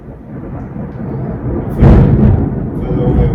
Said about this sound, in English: That sounds like a storm.